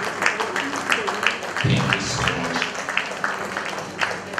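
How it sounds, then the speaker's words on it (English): Audience at a memorial lecture applauds board executives, steady clapping running under a speaker's voice throughout, moderately loud and continuous. "Please, please, a round of applause for them"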